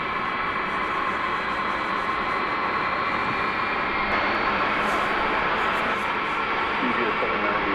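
Boeing 757 jet engines roar at DFW Airport at night, a steady, loud broadband rumble and hiss that holds throughout with a voice talking over it.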